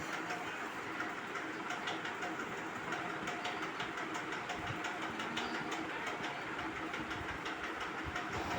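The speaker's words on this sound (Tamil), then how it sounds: "அங்கே ட்ரெயின் வந்து கிளம்பிகிட்டு இருக்காங்க" Distant train rumble in Rajasthan, India, with rhythmic clicking of wheels on rails as the train departs a station, a steady low mechanical drone continuing throughout at moderate volume.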